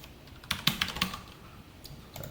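Quick, uneven bursts of key presses on a computer keyboard during a Java programming lesson, close and clear for about two seconds with brief pauses between clusters, and no talking.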